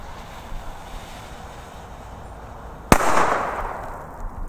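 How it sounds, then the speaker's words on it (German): A powerful D-Böller firecracker goes off on New Year's Eve, one sharp, very loud bang that rolls into a fading rumble over a windy outdoor background. "Das sind auf jeden Fall starke D-Böller"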